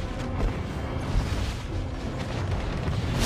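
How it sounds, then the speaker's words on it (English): A turret being destroyed in a team battle video game, a loud rumbling explosion with dense booming bursts sustained throughout. "Your team destroyed a turret."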